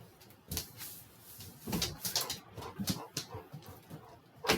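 A small dog moves around indoors, giving soft close scuffs and a few brief whimper-like noises, with clattering bumps like a cupboard or door nearby; no one speaks.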